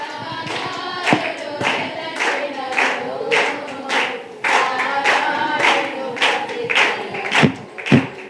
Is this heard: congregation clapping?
yes